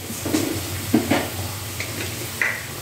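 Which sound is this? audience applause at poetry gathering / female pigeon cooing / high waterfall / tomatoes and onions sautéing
tomatoes and onions sautéing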